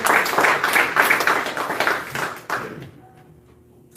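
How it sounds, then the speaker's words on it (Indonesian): A church congregation breaks into a burst of hand clapping after a call to applaud the worship service, dense and loud for about two and a half seconds, then it tapers off into near silence. "Tepuk tangan untuk ibadah kita."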